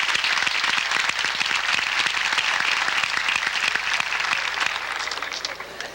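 A crowd applauds an eighth-grade graduating class at a 1986 school graduation ceremony, with sharp individual claps audible in a steady, full round that thins slightly toward the end.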